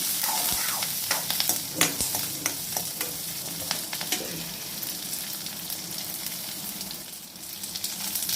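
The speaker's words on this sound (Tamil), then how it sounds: "போட்டு நல்லா வெங்காயத்தை கொஞ்சம் நல்லா வதக்கி விடணும்" Onions and curry leaves sautéing in a pan sizzle steadily throughout, with scattered crackles and pops and occasional stirring scrapes, close and fairly loud with no talking.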